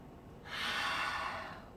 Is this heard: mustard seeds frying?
no